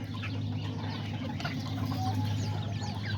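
Kikiriki hens and roosters cluck steadily in a close, busy chorus, with overlapping calls over a constant farmyard hum.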